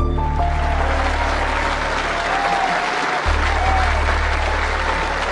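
Steady, loud crowd applause holding evenly for several seconds, a dense wash of clapping with a low steady hum underneath and no voices standing out.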